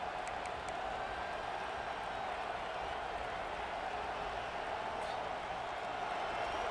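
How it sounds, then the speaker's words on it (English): Steady stadium crowd roar from an NCAA college football video game, North Carolina at LSU, a continuous loud wash of cheering that holds evenly throughout without breaks. "Listen to the crowd energy here in the early going."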